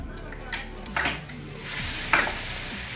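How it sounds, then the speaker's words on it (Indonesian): Sliced red chili being sautéed in a pan for Cirebon nasi jamblang, with a soft sizzle and a few stirring scrapes and taps of utensil on pan, close and fairly quiet. "kita masukkan irisan cabai merah dan kita akan tumis cabai merahnya"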